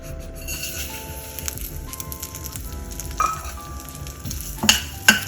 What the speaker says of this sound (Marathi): आणि ह्यामध्ये उडीद डाळ भाजून घ्यायची.